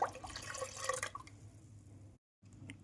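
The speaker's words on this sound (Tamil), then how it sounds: "இப்போ இதில் தண்ணி ஊற்றிக்கலாம்." Water poured into a tamarind pani puri rasam, a dripping, splashing liquid sound for about a second, then a quieter trickle before a brief dropout.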